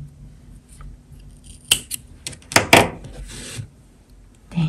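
Scissors snip through crochet yarn while a star-shaped tea coaster is finished off, giving a few crisp, close cuts in quick succession amid soft rustling.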